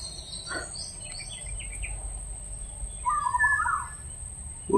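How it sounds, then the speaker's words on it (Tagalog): Birds chirp in the mountains, with scattered calls over a steady hiss of insects or crickets. A clearer burst of bird song comes near the end, and no one speaks. "narinig lang natin dito mga huni ng ibon."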